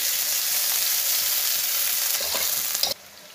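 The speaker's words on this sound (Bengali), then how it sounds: "প্রথমেই কড়াইতে মা পেঁয়াজ, কাঁচামরিচ আর কয়েকটি আলু দিয়ে দিল। তারপর তেল দিয়ে দিল।" Onions, green chilies and potatoes fry in oil in a wok, a loud continuous sizzle up close with faint stirring scrapes near the end before it cuts off abruptly.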